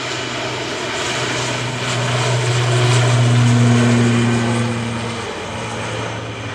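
Propeller airliner departs Manchester Airport for Guernsey with a loud, droning engine hum and a steady low tone that rises and then eases as it passes.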